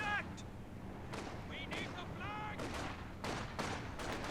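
Shells and gunfire in the war strategy game Company of Heroes 2, with rocket fire: several sharp explosive bursts at irregular intervals over a rumbling battlefield bed, with brief whistling tones in between.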